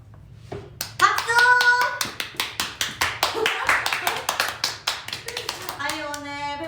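A few people clap hands at a Seoul performing arts high school graduation, sharp uneven claps close by and fairly loud, with talking and a voice mixed in, ending in speech.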